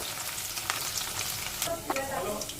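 Cauliflower florets shallow-fry in oil in a pan, giving a steady, close sizzle with occasional spattering pops and light stirring throughout.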